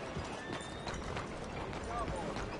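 Horse hooves clip-clop in Red Dead Redemption 2, a quick rhythmic run of hoofbeats with faint whinny-like tones and game ambience beneath, fairly close and steady throughout.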